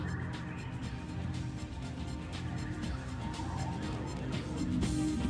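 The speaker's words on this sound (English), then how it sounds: "Once there, you'll find a girl and a bird. Just get me that bird." A bird squawks and gobbles continuously in Sonic Adventure DX, a dense, fairly loud game sound that holds steady throughout with no talking over it.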